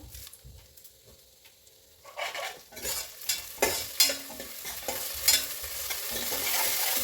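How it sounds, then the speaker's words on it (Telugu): Crushed garlic and torn curry leaves frying in a pan, quiet at first and then a steady bright sizzle with stirring scrapes building up close by. "ఇది వేగుతుంది వెల్లుల్లి కొంచెం నలకొట్టుకొని వేసుకుంటున్నాను దీంట్లోనే కరివేపాకు కొంచెం తిన్నగా తుంపేసుకుందాము"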